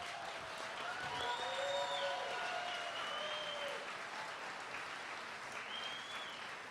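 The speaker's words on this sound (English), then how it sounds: "Let's take a moment to give all three candidates a big round of applause." Audience applause for three congressional district candidates at a county Democrats candidate forum: steady, dense clapping from a crowd filling the room at moderate distance, with a few faint voices and whoops mixed in.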